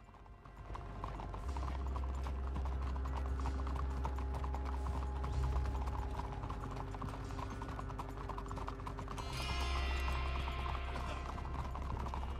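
Horse hooves in the video game Red Dead Redemption II as a group of riders passes through town, a steady rapid clip-clop of several horses, close and continuous with rattling tack, no talking.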